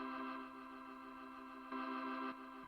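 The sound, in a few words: B3 Hammond organ emulation on keyboard with rotary speaker effect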